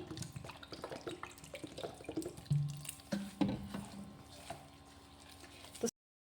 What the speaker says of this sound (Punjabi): ਇਹਦੇ ਵਿੱਚ ਆਪਾਂ ਠੰਡਾ ਪਾਣੀ ਪਾਵਾਂਗੇ